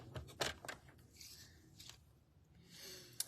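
Scissors or a paper trimmer cutting Designer Series paper to size, a few faint, close snips and rustling scrapes in quiet surroundings.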